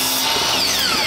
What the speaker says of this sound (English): And now we cut it on the chop saw.